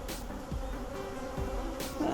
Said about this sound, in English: More bees on this one.